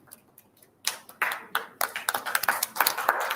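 Applause from an audience at a prize announcement breaks out after a near-silent start: a few scattered claps, then sharper, quicker clapping building up in a small group nearby.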